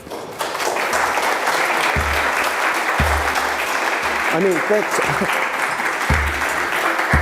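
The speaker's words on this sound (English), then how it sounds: "Everybody was clapping, so I started clapping." A lecture audience claps at the end of a talk with steady, full-room applause that runs throughout, while a nearby voice speaks briefly over it.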